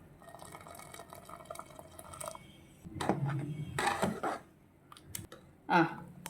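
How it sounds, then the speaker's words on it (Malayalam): Milk pours into a pot of jackfruit payasam, giving a brief liquid splash and trickle that rises and fades between quieter stretches of kitchen noise. "നമുക്കൊരല്പം കൂടെ പാൽ ഒഴിച്ചു കൊടുക്കാം"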